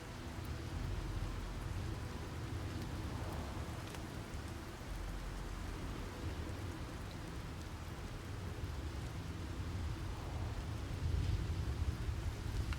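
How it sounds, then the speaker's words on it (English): Steady rain falls in the video game Starfield, a dense even hiss that swells slightly toward the end, with no voices over it. "Too much rain."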